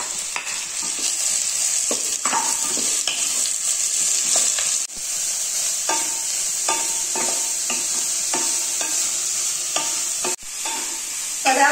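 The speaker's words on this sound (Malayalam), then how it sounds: "ഈ സമയത്ത് നമുക്ക് സവാള, 3 സവാള അരിഞ്ഞ് സ്ലൈസ് ചെയ്തത് കൊടുക്കാം." Three finely sliced onions frying in hot coconut oil for an egg kurma, a steady bright sizzle with repeated scraping stirs throughout, close and fairly loud with no talk.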